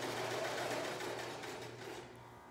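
A serger sewing machine runs fast and powerful, a steady dense whir with a constant low motor hum, fairly close and alone throughout, easing slightly toward the end.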